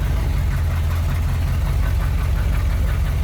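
A 1972 Corvette's engine running as the car is driven, a loud, steady low rumble that holds without letup throughout.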